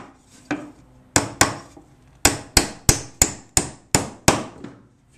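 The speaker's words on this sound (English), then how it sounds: "Hammer them down so you can check to make sure they're going straight." Nails are hammered into a wooden bluebird box, with about a dozen sharp, loud, ringing wooden strikes, first spaced apart and then coming in a quick steady rhythm.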